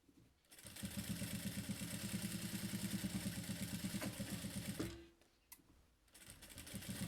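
Sewing machine running steadily for about four seconds while stitching a child's fanny pack with lining, a rapid even chatter of stitches close by, then stopping with a couple of faint clicks and a soft hum resuming.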